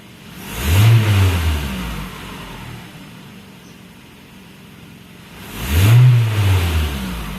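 A Toyota Camry engine idles roughly, its steady running rising in two surging revs at the start and near the end, close and fairly loud with no talk.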